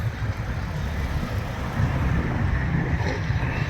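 Cars driving past on a busy Kansas City street, a steady loud rumble and road noise with a slight swell partway through, close by and without talk.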